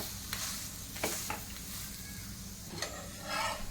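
A mixed-flour curd dhapate flatbread roasts in a pan with a soft, steady sizzle, broken by a few scraping stirs and brief contact sounds, close and fairly quiet.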